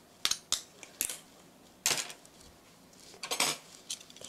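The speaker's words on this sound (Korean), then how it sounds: "이렇게 잘 풀어주세요. 흰자와 노른자가 잘 섞이도록" Eggs for scrambled eggs with cucumber are beaten in a bowl, with a few sharp utensil clinks and scraping taps against the bowl, sparse and irregular, close but fairly quiet.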